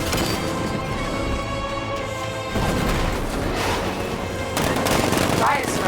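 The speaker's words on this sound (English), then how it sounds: ".60mm cannon operational." Heavy cannon and gunfire rip through a combat scene in the Batman: Arkham Knight video game, a tank's 60mm cannon pounding amid dense, continuous bursts, booms and crashes that swell louder near the end.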